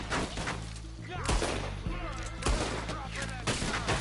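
Pistol shots from a law pistol in the video game Red Dead Redemption 2 crack out several times in quick succession, sharp and punchy over a dense, busy game soundscape with voices underneath.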